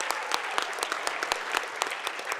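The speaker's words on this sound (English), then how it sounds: "let's give them all a round of applause for a great job" Audience giving a round of applause at an awards gala, a roomful of sharp overlapping claps at a steady, even level.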